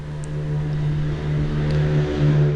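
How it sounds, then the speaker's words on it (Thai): Motorcycles and pickup trucks rev on a road right outside a house, a steady loud engine drone with a low hum and shifting pitch that runs throughout without a break. "มันก็จะมีเด็กแว้นมอไซค์ ผู้ใหญ่แว้นกระบะ"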